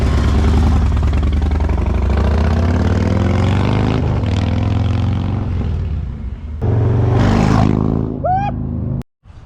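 A motorcycle with a Feuling 2-into-1 aftermarket exhaust and air cleaner idles with a deep, throbbing exhaust rumble, close and loud, with a brief change in tone near the end before it cuts off.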